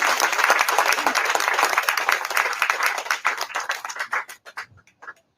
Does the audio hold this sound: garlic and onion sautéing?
no